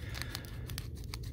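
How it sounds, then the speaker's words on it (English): Scissors snip open a vintage baseball trading card pack, a few quick crisp cuts and crinkles of foil wrapper, close and fairly quiet. "get another pair of scissors"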